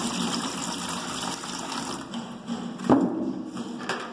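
Water poured for mixing plaster to patch imperfections, a steady close splashing wash with a brief louder gush near the end, no voices.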